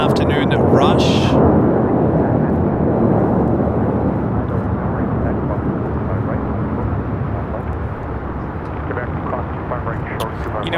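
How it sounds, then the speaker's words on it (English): A Singapore Airlines Boeing 777-300ER touching down on runway 24 left at LAX, a loud broadband jet roar that holds steady and slowly eases, with brief talk near the start and end. "We have the Singapore Airlines 777-300ER about to touch down."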